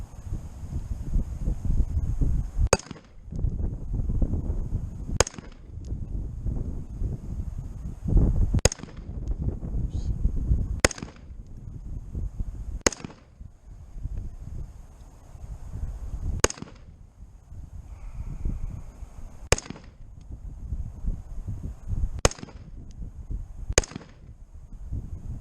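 Springfield Saint Edge rifle firing nine sharp, evenly spaced shots outdoors, each a loud crack standing out over steady wind and background rumble, with a few seconds between rounds.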